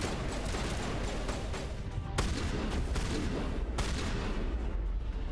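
Shotgun blasts in the Mass Effect video game, a dense continuous barrage of gunfire with two sharper booming shots standing out, loud and without speech.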